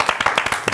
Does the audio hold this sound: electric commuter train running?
no